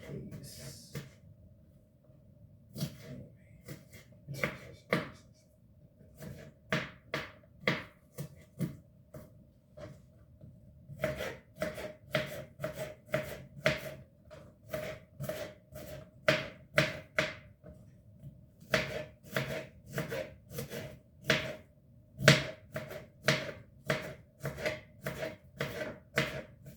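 An onion being chopped by hand on a cutting board, close rhythmic knife strikes in quick runs separated by short pauses, crisp and distinct with no talking.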